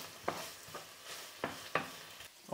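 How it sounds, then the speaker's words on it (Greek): Bacon sautéing in a pan while it is stirred: a soft, quiet sizzle under a few distinct scraping strokes, with no talking. "Σοτάρουμε το μπέικον."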